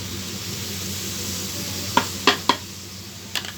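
Masala for stuffed pointed gourd sizzles steadily in oil in a pan as sour yogurt goes in, a continuous hiss broken by a few sharp clinks and scrapes of a spoon stirring.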